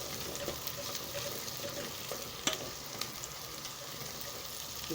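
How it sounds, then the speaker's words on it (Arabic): Garlic fries in a pan with an even, moderately quiet sizzle, steady throughout with a couple of small clinks, and no talk. "نزلنا بالتوم بعدين يا جماعة نحمره كويس قوي اهو"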